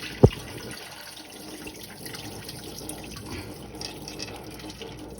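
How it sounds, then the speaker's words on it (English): Cloudy soaking water is poured off pinto beans, splashing steadily into a sink after a sharp knock at the start, continuing evenly throughout. "Then I just pour them off, pour it off."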